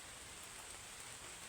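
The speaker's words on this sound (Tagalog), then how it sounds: "Medyo naambon-ambon po ng kaunting." Light drizzle falls in a rural outdoor setting, a soft, even hiss of fine rain that stays faint and constant without any voices.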